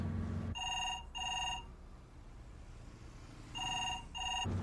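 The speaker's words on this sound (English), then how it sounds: "Answer the phone, that is." A telephone bell rings in two double bursts with a pause between them, loud and close, ringing alone with no talk in the room.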